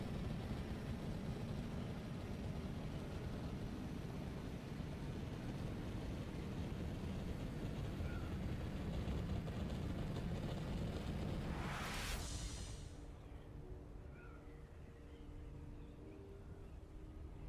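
Ornithopter thrusters in Dune Awakening over the deep desert, a steady, faint, windy roar with engine drone that holds for a long stretch, then swells into a brief rushing whoosh and settles to a quieter hum.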